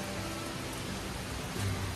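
Steady rain falling outdoors near farm fields, a dense, even hiss of drops on surfaces at fairly loud level throughout, with no voices.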